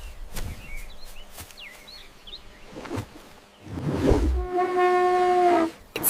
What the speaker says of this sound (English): It's an elephant.